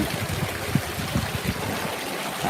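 Water spouting from naga statues into a shrine waterfall where an earth-goddess figure sits, a steady close splashing and trickling stream with gurgling pulses and no voices.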